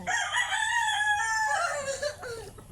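Backyard chickens, a rooster crowing once loudly and close in a drawn-out cock-a-doodle-doo that trails off, with faint clucking behind it and no talk.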